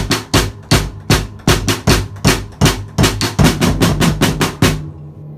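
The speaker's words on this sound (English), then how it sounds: "you're gonna bring the rim up to the floor tom itself and then hit solid notes there." Solid, evenly spaced drum hits on a floor tom, loud and close, roughly three or four strikes per second in a steady pattern that quickens slightly before stopping, with no voices.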